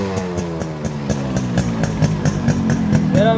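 An original-cylinder Yamaha RX 100 two-stroke motorcycle engine running close by, a buzzing, rattly idle with regular pulses, rising in pitch as the throttle is blipped at the end.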